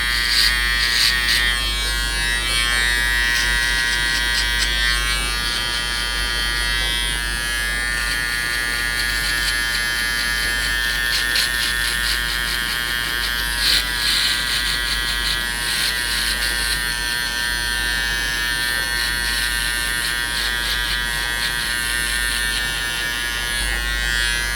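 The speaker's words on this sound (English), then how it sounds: "now at this point I'm using a foil shaver and I'm completely boarding out this bottom part here" An electric foil shaver buzzes steadily and close at the bottom of the head while the sides are bared down during a skin fade haircut, a constant high whine with small flickers as it moves over the hair, with no talk.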